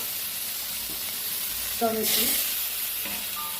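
Spices for a tomato-based Golsha fish curry, with sugar and salt added, are stirred in a pan. A steady, close frying hiss carries a few scraping strokes and a brief spoken word.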